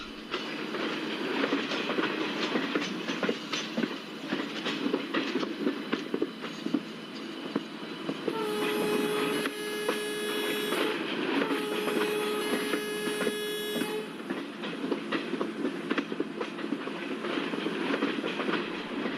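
A locomotive in a train simulator on the Mumbai to Surat route rumbles along with rhythmic clickety-clack of wheels on rail joints, loud and continuous, while a long two-part horn blast sounds midway.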